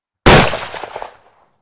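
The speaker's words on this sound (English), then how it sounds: "Gunfire." A single sharp gunshot blast bursts out of silence as a sound effect in an audio drama, then decays through a rattling, echoing tail for about a second with no voices.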